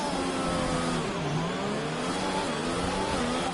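A Formula 1 car engine in F1 2020 revs steadily at high pitch through a practice start, its tone rising and falling smoothly and continuously with no voices over it.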